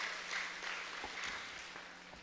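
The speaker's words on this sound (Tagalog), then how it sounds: "Isa pang malakas na palakpak sa atin pong buhay na Diyos." A church congregation applauds, a steady wash of clapping from many hands, moderately loud and slowly fading.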